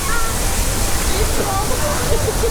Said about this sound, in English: you happen to have your logboat just happen to stop next to this waterfall